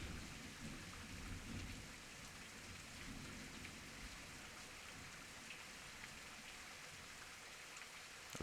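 Steady, dense rainfall pattering on surfaces, a continuous soft hiss with low rumbling underneath, no voices.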